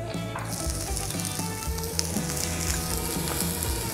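Onions sizzle steadily in avocado oil on a hot griddle of a Cuisinart 360 cooking center, a dense continuous frying hiss with some low rumble, close and loud throughout with no talking.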